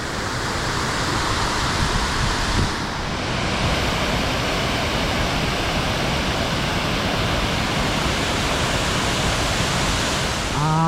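Tad Khu waterfall near Pakxong in Champasak, Laos, a loud, steady roar of rushing water that fills the whole stretch with no break.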